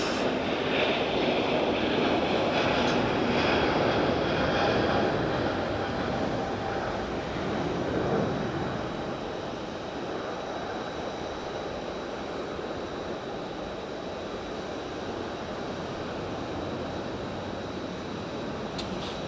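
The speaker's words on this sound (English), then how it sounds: "It's an aircraft on its way in." A plane on approach into Geneva airport, a steady broadband engine roar that stays loud and continuous, swelling slightly early on and then holding level without any voices.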